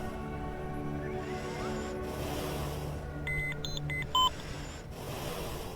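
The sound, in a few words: beeping noise from a video game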